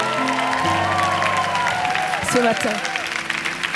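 Audience applause for a surprise guest arriving from the United States, a broad wash of clapping under a gospel concert setting, with a host's voice speaking over it and brief vocal calls near the end.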